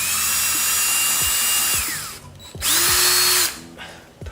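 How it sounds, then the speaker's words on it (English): A power drill whines steadily into a motorcycle's metal part, pausing briefly before a second loud burst of drilling, with sharp ticks and clatter in between. "press it in, cross your fingers and drill through"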